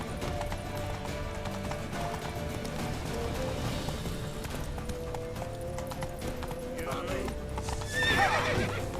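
Hooves clip-clop in a fast, steady gallop in The Witcher 3: Wild Hunt, with a horse whinnying near the end over a constant background.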